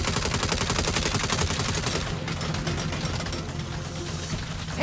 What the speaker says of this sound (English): You better shoot that turret like you shoot off your mouth!